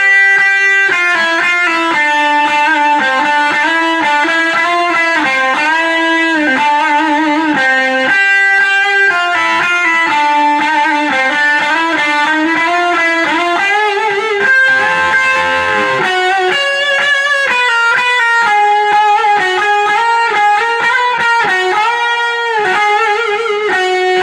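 Electric guitar through a Victoria Regal amplifier plays sustained chords and melodic lines with heavy reverb and some distortion, ringing continuously and fairly loud.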